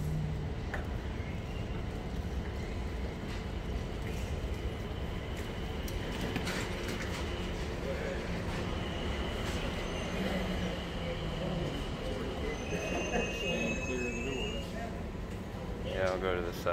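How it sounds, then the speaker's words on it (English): An Atlanta airport SkyTrain pulling into a station, a steady mechanical rumble and whir filling the space continuously, with voices and announcements heard over it. "Train is arriving. Please stand clear of the doors."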